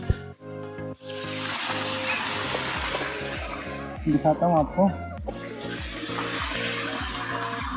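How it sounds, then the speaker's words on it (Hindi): Water pours steadily into a swimming pool at a riverside resort, a continuous hiss running under someone talking, with brief tonal chirps midway. "अभी देखिए वहाँ से इसमें पानी भरा जा रहा है।"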